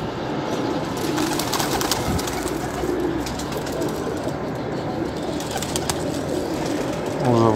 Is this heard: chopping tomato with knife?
no